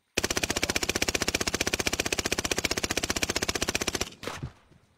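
Sustained automatic gunfire in Call of Duty Warzone, about four seconds of rapid, evenly spaced shots fired close and loud, cutting off abruptly into a short fading tail.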